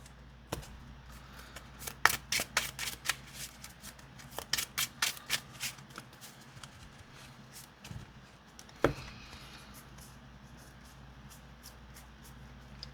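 Cards shuffle back into the deck in a Yu-Gi-Oh video game, a flurry of short, sharp snapping clicks in quick succession, then a few scattered taps over a quiet background.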